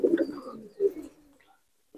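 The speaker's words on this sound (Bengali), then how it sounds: "আমি ক্যামেরা দিয়ে দেখিয়ে দিচ্ছি কিছু পায়রা" Malwai pigeons coo in a loft, a pair of low rolling coos close by, then quiet near the end.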